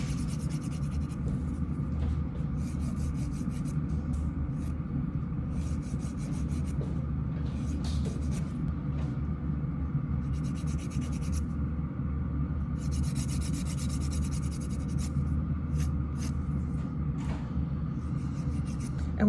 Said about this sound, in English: the other hand I'll do with the electric file